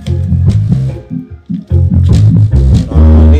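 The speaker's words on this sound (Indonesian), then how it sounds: "Nah, ini suara sub, guys." A subwoofer in a stage side-fill sound system pumps loud music with a heavy, booming low end and rattling bass pulses that briefly drop out midway.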